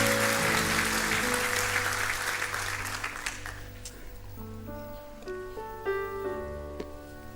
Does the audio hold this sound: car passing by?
no